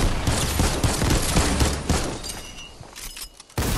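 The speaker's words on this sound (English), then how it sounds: "I'm using my grenade launcher." Grenade launcher in Fortnite firing a dense burst of loud explosive blasts back to back, the barrage thinning out before a final sharp bang at the end.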